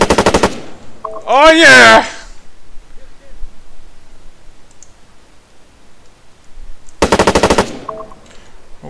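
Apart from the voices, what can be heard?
machine gun fire in a video game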